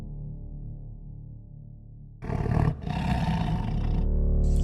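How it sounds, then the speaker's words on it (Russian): Lions roaring on the African savanna: a low rumble gives way to a loud, broad roar that breaks off briefly, resumes and swells toward the end, with no voices present. "Но правят здесь львы."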